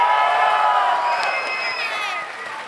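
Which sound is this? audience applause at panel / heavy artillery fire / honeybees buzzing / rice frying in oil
audience applause at panel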